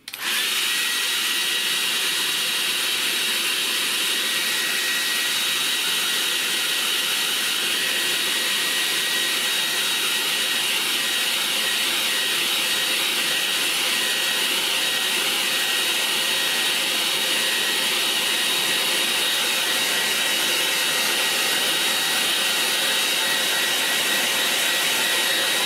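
Hair dryer blowing on a watercolour painting on paper, a loud, steady, close rushing whoosh with a constant motor whine lasting the whole stretch, with no talking.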